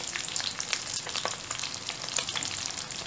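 Galunggong fish fry in a pan with a constant crackling sizzle and popping oil spatters, close and steady, with no one speaking.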